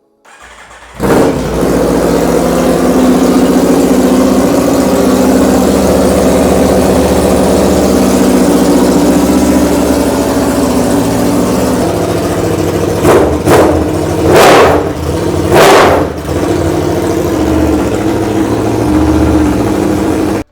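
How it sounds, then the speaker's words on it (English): A 2023 Aprilia RSV4 motorcycle with an SC Project GP22 exhaust starts up and settles into a steady, loud close-up idle, then gives a few sharp throttle blips near the end. "This RSV4 has an SC Project GP22. Let's get it going."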